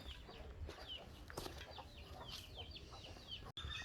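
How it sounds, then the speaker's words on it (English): Chickens and a rooster at a rural house in Guatemala, with scattered clucks and squawks repeating at a moderate distance over steady ambient outdoor noise. "A lot of chickens actually."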